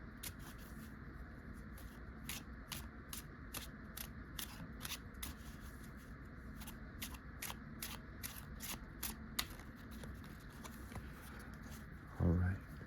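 A series of crisp, regular snapping clicks, steady and close, like cards being riffled or shuffled, with a brief thump at the end.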